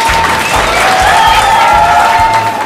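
An audience applauds talented children at a TV game show, with loud, dense clapping throughout and a little cheering mixed in.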